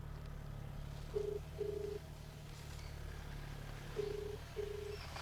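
A phone on speakerphone rings unanswered, sounding a repeated pair of short ring tones over a low steady hum, with the second pair arriving a few seconds after the first.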